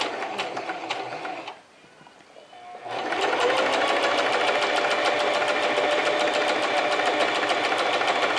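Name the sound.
sewing machine sewing a double top stitch seam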